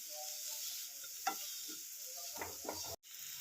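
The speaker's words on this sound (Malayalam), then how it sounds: "അരപ്പൊക്കെ നല്ലപോലെ ഒന്ന് ചൂടായി വരട്ടെ." Ground coconut paste heats in a pan with salt, giving a soft steady sizzle and a few faint scraping stirs, close but quiet, with no voices.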